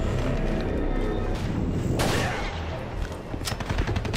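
Dense gunfire fills a firefight in the shooter video game TimeShift, a continuous barrage of overlapping shots and booms with loud impacts throughout.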